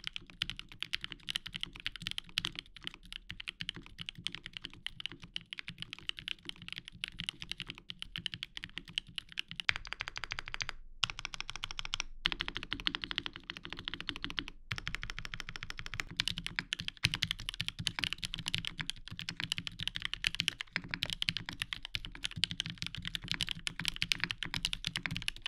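Typing on a Tenet 70 mechanical keyboard with silicone dampening inside, a dense, steady stream of close, muted key clacks with occasional brief pauses and no talking.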